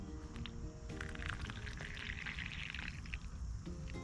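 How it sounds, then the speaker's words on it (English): Hot water is poured into a small cup of coffee already mixed with cream and sugar, a steady close splashing pour over a low background rumble that lasts about four seconds. "And then we just add our hot water."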